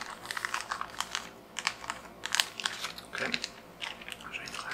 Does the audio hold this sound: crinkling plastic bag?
yes